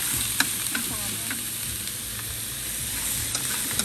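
Frog braised with lemongrass and chili sizzles and bubbles steadily in a pan, a continuous close frying hiss with occasional light stirring taps and pops.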